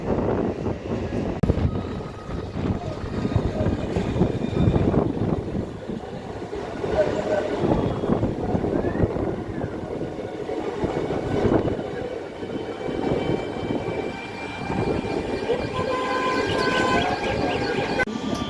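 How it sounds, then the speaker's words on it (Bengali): A train on the Krishnanagar to Amghata line rolls slowly toward Amghata halt, a continuous rumbling clatter of wheels and carriages heard from on board, loud and steady throughout. "ট্রেন আস্তে আস্তে এগিয়ে চলেছে আমঘাটা হল্টের দিকে"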